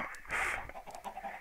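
Minecraft chickens clucking in a farm pen, a few short, close clucks in quick succession standing alone.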